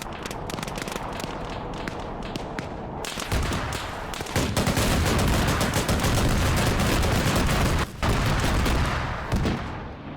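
A BMP armored vehicle opens fire in a military video game: dense, loud bursts of rapid gunfire that build and keep going, with a couple of brief pauses between volleys.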